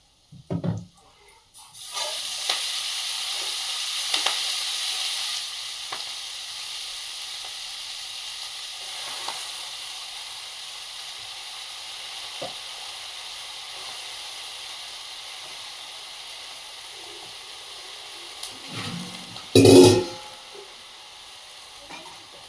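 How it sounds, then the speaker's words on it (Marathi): Green fenugreek leaves drop into hot tempering oil with a sudden loud sizzle that gradually settles into a long, softer hiss. Occasional utensil taps follow, and a sharp clank comes near the end. "ही मस्त हिरवी हिरवी भाजी जी आहे याची आपल्याला आता फोडणी द्यायची आहे"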